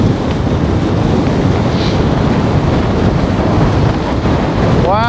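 Strong wind buffets the microphone on a beach as water surges across the sand, a loud, steady roar throughout with a brief whistling sweep near the end.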